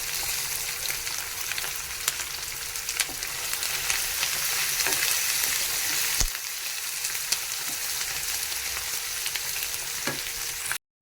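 Beef fry sizzles steadily in a hot pan with curry leaves, a dense, close crackle that holds at an even level for the whole stretch with no one speaking.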